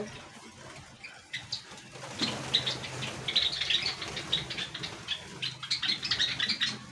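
A colony of Java sparrows in a clean aviary with nests and chicks, their wings fluttering in repeated soft bursts among busy high chirps, moderately close and steady throughout.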